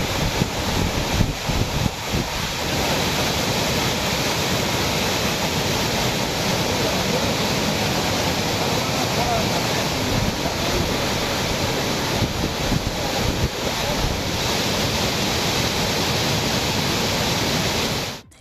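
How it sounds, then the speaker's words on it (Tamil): Megamalai waterfall, flooding after continuous rain in the Western Ghats, roars as a loud, unbroken wash of rushing water for about eighteen seconds, with no voices. "மேற்கு தொடர்ச்சி மலைப்பகுதிகளில் தொடர் மழையினால் மேகமலை அருவியில் வெள்ளப்பெருக்கு ஏற்பட்டுள்ளதால்"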